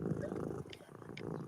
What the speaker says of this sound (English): Can you guys hear the kitty?